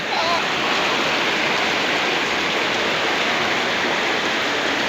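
Steady, loud rainfall in the Sundargarh district of India, a dense unbroken hiss that stays even throughout with no other clear sounds.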